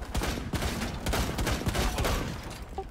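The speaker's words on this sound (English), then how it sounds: "I was shooting holes in the wall!" Rapid bursts of gunfire in Rainbow Six Siege as shots punch holes through a wooden wall, a dense, loud fusillade of close cracks running the whole time.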